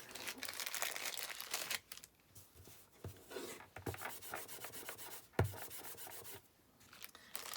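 An embossing buddy rubbed over cardstock for a white-on-white wedding card, giving repeated close, soft scratchy strokes with brief pauses and no talking.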